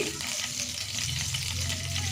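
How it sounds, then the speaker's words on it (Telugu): Tempering spices and ginger-garlic paste fry in a hot pan, producing a brief, steady, close sizzle with no pauses. "తాలింపు దినుసులు అయితే వేగాయండి కొంచెం అల్లం వెల్లుల్లి పేస్ట్ వేస్తున్నాను"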